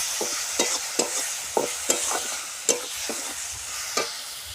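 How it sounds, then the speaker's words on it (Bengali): A spoon stirs ginger, cumin and coriander spice mix into muri ghonto, a puffed-rice dish, in a hot pan: repeated scraping strokes at an uneven rhythm over a steady frying hiss, close and moderately loud. "মশলাটা এর মধ্যে দিয়ে দেব, দিয়ে এর মধ্যে মিশিয়ে নেব"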